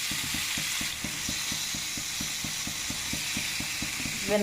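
Marinated food frying in hot oil gives a steady, loud sizzling hiss throughout, with a regular ticking click repeating about four times a second underneath.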